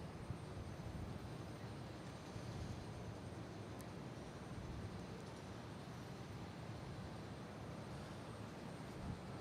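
An American airliner arriving from LaGuardia at Boston Logan International Airport gives a faint, steady, distant engine roar that stays even for the whole stretch.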